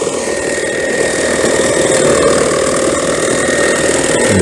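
A Mammotion Yuka robotic lawn mower driving across a lawn while cutting and collecting grass, giving a loud, steady motor hum with a whirring blade that stays constant and close throughout.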